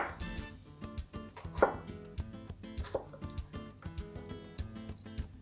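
A knife chops onion on a cutting board in quick, steady strokes, with crisp repeated taps close by over a faint musical background.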